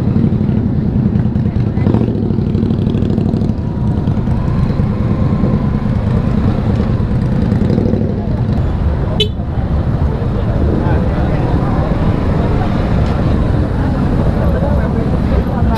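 A Suzuki Gixxer 155 motorcycle engine hums steadily while riding through traffic, a constant loud drone with road noise, a brief horn-like toot midway, and talk over it.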